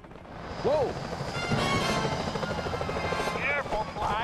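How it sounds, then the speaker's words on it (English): Security choppers in the video game Sly Cooper: Thieves in Time roar steadily throughout with a loud, continuous rotor drone, joined by brief whooshing effects and game voices speaking over the noise. "Those security choppers are bad news."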